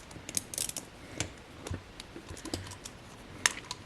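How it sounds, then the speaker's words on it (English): A 3mm Allen key loosens a nut while sporty levers are fitted on an Evader, making faint, close metallic clicks and small ratcheting ticks at irregular intervals, with no talking. "I got my 3mm Allen key here. Gonna put it right inside there. And then go ahead and loosen up the nut here."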